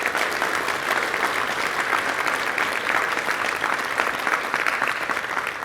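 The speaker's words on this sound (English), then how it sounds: "So please give Pierrick a round of applause for that." Steady round of applause from a convention audience, dense and even throughout, heard at moderate distance with no talking over it.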